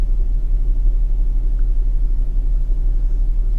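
A warmed-up 2005 Kia Optima engine, running lean, idles with a steady low rumble and hum, close and constant, with no talking.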